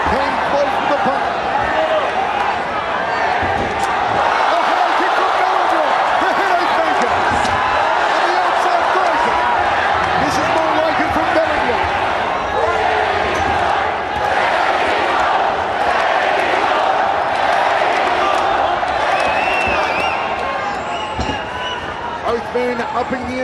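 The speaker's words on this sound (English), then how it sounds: "The crowd roars again as Bellingham came close to the punch." A dense crowd at a ONE Championship mixed martial arts fight roars steadily throughout, with a commentator talking over the sustained arena noise.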